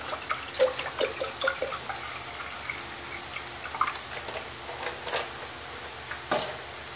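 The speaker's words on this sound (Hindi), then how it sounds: "आप अपने हिसाब से इसमें पानी डाल दें।" Water pours into a pressure cooker holding rice for a restaurant-style veg biryani, a steady splashing, trickling stream with small drips, close and moderately loud, with no talking.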